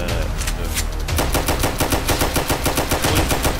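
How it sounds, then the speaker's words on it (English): Rapid automatic gunfire rattles without a break in a Roblox hood roleplay shooting game. The dense bursts are loud and close and fill the whole stretch. "Whoever shot me, getting shot."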